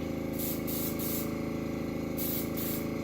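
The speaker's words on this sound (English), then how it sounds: "make sure you're not just spraying a ton of paint at it at a ton of pressure" A steady paint-spraying hiss runs throughout, with a few short, louder bursts of spraying on top.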